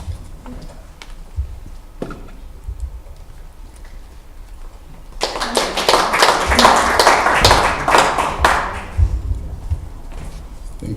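A roomful of people at an open microphone session breaks into applause, a burst of dense clapping that starts abruptly after scattered taps, swells, then thins out.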